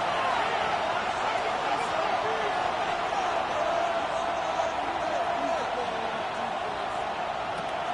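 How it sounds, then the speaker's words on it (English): A packed football stadium crowd roars in a dense, continuous wall of noise ahead of a third-and-goal play between the Eagles and Texans, steady and loud throughout, with a commentator's voice underneath. "This crowd doing all they can."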